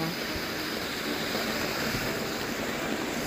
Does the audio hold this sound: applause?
no